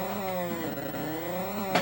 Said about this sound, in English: It just sounds like a bunch of Cars. engines going